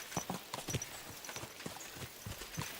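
Horses walking on a trail, hooves clip-clopping in an irregular, close rhythm, fairly quiet, with no talk over it.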